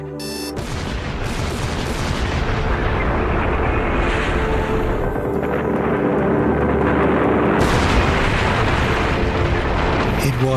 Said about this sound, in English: Dynamite charges are set at each end of the channel.